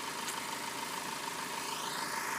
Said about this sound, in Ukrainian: іде класно їде цей фіат